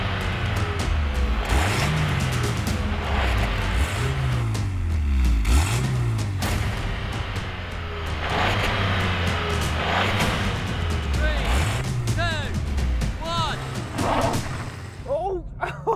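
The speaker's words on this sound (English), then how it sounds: "So we're going to have a drag race." A VW Golf GTI MK2 and a VW up! GTI launch side by side in a drag race. Loud engines run continuously, with revs climbing in repeated sweeps through the gears, and a voice talks over them.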